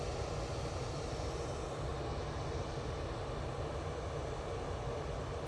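An Etihad airliner on short final approach at Manchester Airport, heard as a faint, steady broadband jet roar with low rumble that holds evenly throughout, distant and with no voices.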